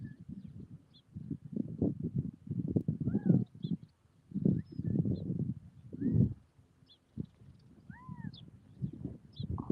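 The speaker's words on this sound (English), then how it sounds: "Can you hear that bird?" Birds, including a quail, call outdoors in the town of Wilhoit, Arizona, with brief faint chirps and whistles scattered through, heard beneath ongoing close talk and footsteps during a walk.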